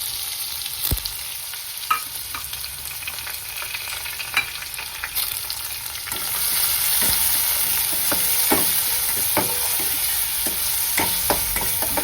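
Finely chopped onion frying in a pan with ginger and garlic, a soft continuous sizzle that grows louder halfway through, with occasional sharp taps and scrapes of a spatula and no talking.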